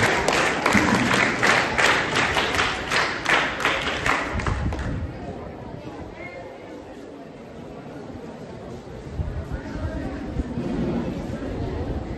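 Scout clap from a school group at an investiture ceremony, sharp rhythmic claps in unison for a few seconds, then fading into chatter and crowd murmur with some thuds.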